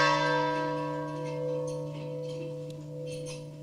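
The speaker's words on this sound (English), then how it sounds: "We toll the bell to proclaim to the citizens of Hillsborough County" A ceremonial bell tolls once at a Hillsborough County graduation, its clear ringing tone hanging and slowly fading, with no talking over it.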